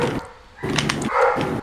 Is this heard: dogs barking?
yes